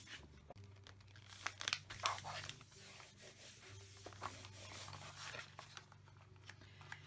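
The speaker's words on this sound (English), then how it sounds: "Then I'm going to put patterned paper on this side." Patterned paper being handled and applied to an envelope flipbook, with quiet crinkling, rubbing and rustling close up over a steady low hum.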